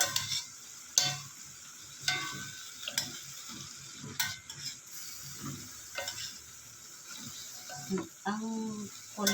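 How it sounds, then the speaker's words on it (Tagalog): A spatula scrapes and stirs broccoli and cauliflower sautéing in a pan, in repeated close strokes about once a second over a soft, steady sizzle. A voice talks in between. "Tapos, haluin na natin."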